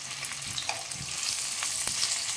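Hilsa fish frying in a pan gives off a close, steady sizzle and crackle of hot oil, with a few soft clicks of a utensil and no voices.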